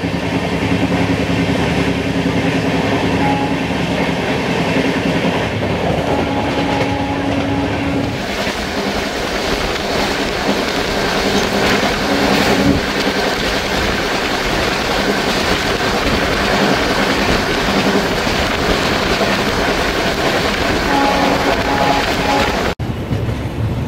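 A moving Padatik Express train between Sealdah and New Alipurduar makes a loud, continuous rumble with rhythmic rail clatter. The pitch of the running noise shifts partway through, and no one speaks.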